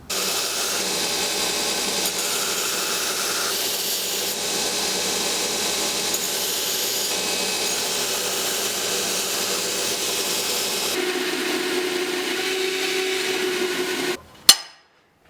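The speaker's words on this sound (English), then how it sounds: "Alright, let's go to the grinder." A bench grinder works a Go Mai cable Damascus knife blank with a continuous, loud abrasive whine lasting about fourteen seconds, then cuts off abruptly with a brief clatter.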